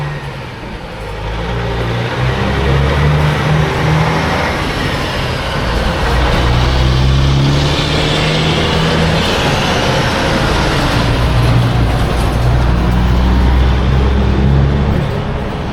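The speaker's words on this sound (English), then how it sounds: "Hold on, we got more trucks coming." Trucks drive past outdoors on a road, a loud steady rumble and roar of engines and tyres that swells and holds for the whole stretch with no talk.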